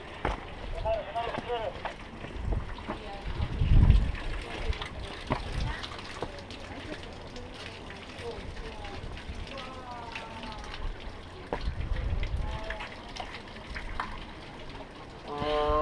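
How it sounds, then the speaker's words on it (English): Inca stone water fountains at Machu Picchu running in a steady trickle and splash outdoors, moderate and continuous beneath someone talking through most of it. "These beautiful and masterfully elaborated water fountains where Inca priests worship the rain or water"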